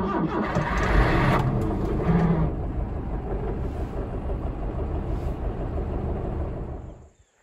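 A new home generator is switched on, its engine rumbling loudly and steadily for several seconds, then cutting off abruptly at the end.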